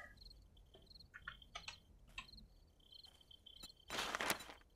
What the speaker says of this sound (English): Hear them crickets again already.